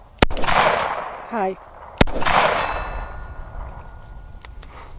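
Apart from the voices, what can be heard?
Glock 19x gunshot with MCK and hit at 100 yards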